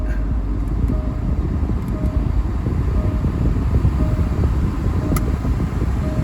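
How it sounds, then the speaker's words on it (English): Car air conditioning blower fan running at full, a loud steady broadband whoosh of rushing air with a low rumble underneath and faint tonal hum, constant with no talk. "Turn the blower on to full."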